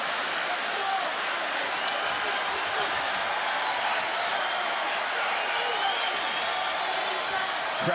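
Arena crowd noise during a mixed martial arts fight between Anthony Pettis and Jim Miller in its closing seconds: a steady, dense roar of cheering fans, continuous and fairly loud throughout, with scattered shouts rising above it.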